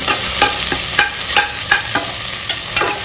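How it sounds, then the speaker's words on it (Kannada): Chopped onions frying until golden brown for a Mangalorean chicken curry, with a steady close sizzle and regular spatula scrapes against the pan roughly every half second, and no speech. "ನೀರುಳ್ಳಿ ಚಂದ ಫ್ರೈ ಆಗ್ಬೇಕು, ಗೋಲ್ಡನ್ ಬ್ರೌನ್ ಆಗುವಾಗ ಫ್ರೈ ಆಗ್ಬೇಕು."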